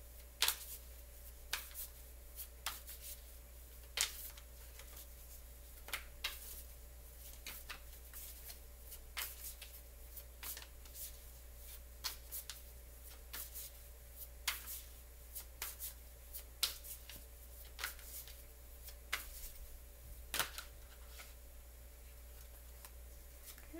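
Tarot cards being shuffled by hand, a long run of crisp riffling snaps and slides repeating at an irregular pace over a low steady hum, close up and fairly quiet, with no voice.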